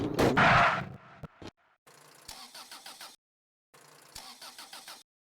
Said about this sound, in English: I can get the car to start